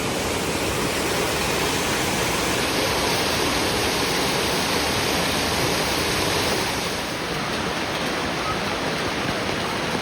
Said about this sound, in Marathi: या पर्वतरांगांवरून असे छोटे छोटे ओहळ इथे वाहत असलेले आपल्याला दिसतात